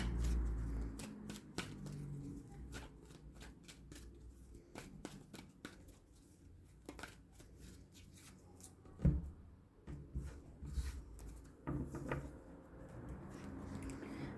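Tarot cards being shuffled and drawn up close, with soft riffling, slides and taps of card stock coming in irregular bursts over a quiet room.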